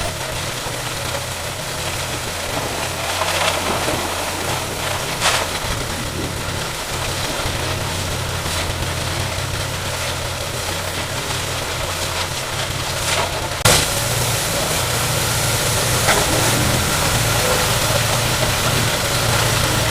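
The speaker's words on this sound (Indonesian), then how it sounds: "Kita semprot bagian yang kotor-kotor tadi sampai benar-benar bersih." A pressure washer running at about 50 bar blasts the dirty upper panels of a car at a car wash, a steady motor drone under continuous broadband hissing spray that holds level throughout, with a brief sharp knock partway through.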